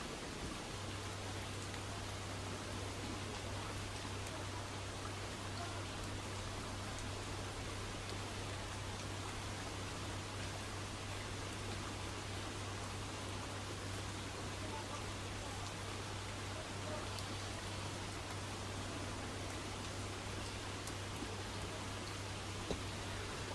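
Heavy storm rain falls steadily outside a car at night, a dense even hiss with a faint low hum underneath, continuous and unchanging throughout.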